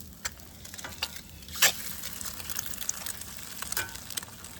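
Bacon sizzling on a hot griddle, a steady soft frying hiss with scattered pops and crackles, fairly faint and close.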